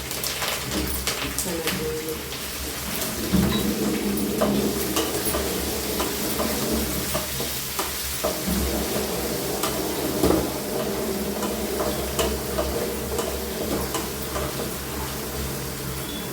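Dried red chillies, green chillies and curry leaves sizzle and crackle steadily in hot oil while being stirred for Andhra-style tamarind pulihora.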